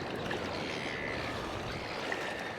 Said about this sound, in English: Quite a bit of flow on this little creek when the tide's changing